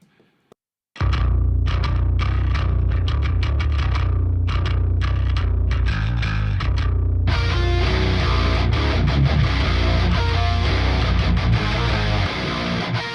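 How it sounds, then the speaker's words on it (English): Distorted metal bass guitar playing in a full heavy mix, starting after a brief quiet moment with choppy chugging notes, then swelling into a dense, loud wall of sound with other instruments. "the bass sounds like this"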